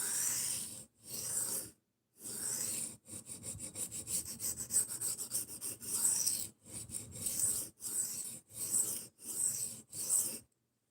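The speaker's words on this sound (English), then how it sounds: "this thing's sharpening up quick" A chipped knife blade drawn repeatedly across a sharpening stone, giving rhythmic rasping strokes in quick succession with brief pauses between passes, close and clear with no voices.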